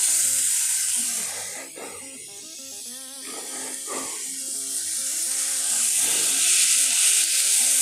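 Pork sizzling on a hot flat-top griddle, a steady bright frying hiss with crackles that dips briefly then swells again, alongside soft clatter and faint background talk.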